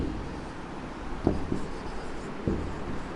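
Hand writing on paper while number names are written out in a maths lesson: faint, close scratches of the pen in a few short strokes over low background hum.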